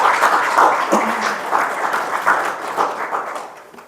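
Church congregation applauding during a Sunday afternoon worship service, a dense, steady wash of clapping from many hands that carries on throughout and slowly tapers toward the end.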